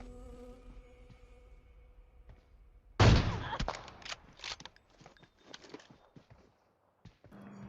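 Gunfire in the mobile battle royale game PUBG Mobile: after a quiet stretch, a loud close shot bursts out, then a rapid scatter of further shots and impacts that fade into sparse clicks.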